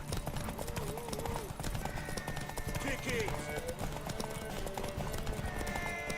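Horse hooves clip-clopping at a gallop with a brief neigh in The Witcher 3, running continuously under game music and shouted dialogue from other characters.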